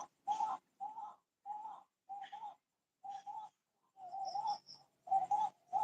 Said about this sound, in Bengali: দেখো পাখিগুলো গান করছে বাবা